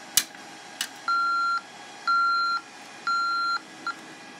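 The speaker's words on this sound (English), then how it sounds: "I'm going to demonstrate this Vista panel dialing to it" A Vista alarm panel dials out to a Radionics central station receiver: a few short clicks, then three evenly spaced half-second electronic tones, clear and close in a quiet room.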